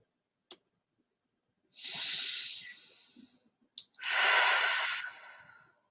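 Slow meditative breathing close to the microphone: a soft inhale, then a long airy exhale, a pause with faint clicks, and a second long breath out, hushed and unhurried against near silence.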